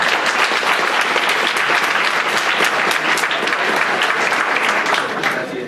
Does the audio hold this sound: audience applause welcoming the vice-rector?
yes